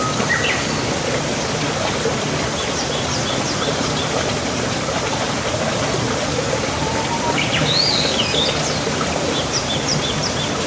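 Tarias Falls, a layered waterfall with a rocky stream in Antipolo, roars as a steady, dense rush of flowing water, with faint bird calls scattered through it.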